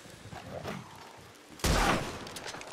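A single loud gunshot in the video game Red Dead Redemption 2 Online rings out sharply after a stretch of quieter ambient game sound, its boom trailing off slowly.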